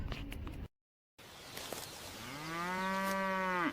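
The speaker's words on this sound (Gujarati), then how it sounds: "આ છે ભેંસ. ભેંસને ઇંગ્લિશમાં બફેલો કહેવાય." A buffalo gives a single loud, drawn-out moo that rises and then holds steady near the end, after a brief stretch of silence and some faint rustling at the start.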